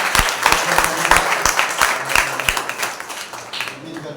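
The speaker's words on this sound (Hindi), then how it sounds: "बहुत जोरदार तालियां।" A church congregation at a Sunday service claps during a welcome. The hand claps are uneven and distinct, and voices and some background tones run beneath them.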